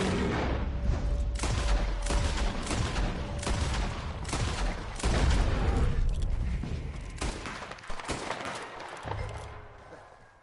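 A rapid fusillade of gunshots from the video game Red Dead Redemption 2 cracks and booms in close succession. The shots overlap into dense volleys, then thin out toward the end.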